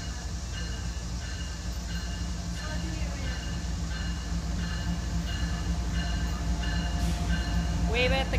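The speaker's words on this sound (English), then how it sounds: "Freight train." A freight train rolls past at Harpers Ferry, West Virginia: a loud, close, steady rumble of wheels and cars on rails, with brief squeals of metal near the end.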